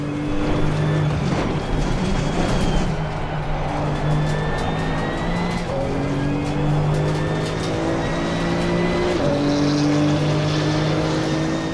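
Porsche GT2 race car in the Assetto Corsa Competizione racing game at Red Bull Ring, its engine holding a steady loud drone with rising pitch sweeps as it accelerates through the gears, with a short drop during a shift, and no talking.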